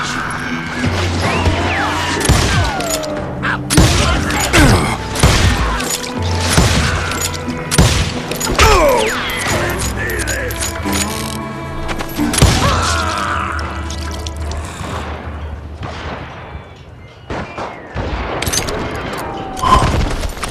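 Rapid gunfire in a Call of Juarez Gunslinger Wild West shootout, loud sharp shots and crashes in irregular bursts across the scene, with occasional game voices mixed in.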